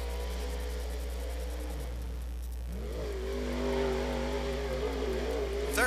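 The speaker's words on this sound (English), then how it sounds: "abandoned chassis race car with a Smiley race engine beneath the hood" A race car fitted with a Smiley race engine at a speedway, its engine droning then rising in pitch as it accelerates, heard from a distance under a steady low hum.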